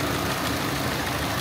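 A car engine idles with a steady, even rumble, close by and uninterrupted.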